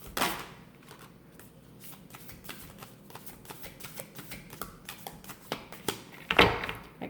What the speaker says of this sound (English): I can shuffle them.